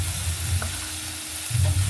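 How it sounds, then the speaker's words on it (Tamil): A ground paste of ginger, garlic, pepper, cumin and tomato sautéing in a pan for rasam, giving a steady close sizzle with a little stirring noise and no voices. "அரைச்சதை இதில் போட்டு நல்லா வதக்கணும்."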